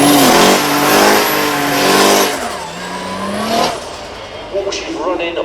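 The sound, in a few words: car with turbocharged Volkswagen 2.7 litre V6 engine driving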